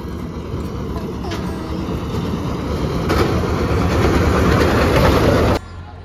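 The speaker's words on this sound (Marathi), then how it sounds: "हीच ती ट्रेन आहे. या ट्रेनने आम्ही सकाळी गेलो होतो जाताना." A small toy train on Elephanta Island runs close by with a steady, rumbling rattle of wheels and carriages that builds in loudness before cutting off abruptly near the end.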